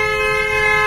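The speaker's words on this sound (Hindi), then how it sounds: "कोई भी टर्निंग आता है वहाँ पे आप हॉर्न दीजिए" A car horn sounds during a driving lesson as the car takes a turn, one loud, steady, unbroken blast held for about a second with faint road noise beneath.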